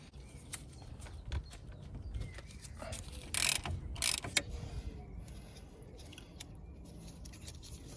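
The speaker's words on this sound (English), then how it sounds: "to remove the carrier I use a number 18 socket" A ratchet with an 18 mm socket working on a Ford Focus Mk3 front brake caliper carrier, giving quiet clicking and a few sharp metallic bursts midway, with faint background noise and no talk.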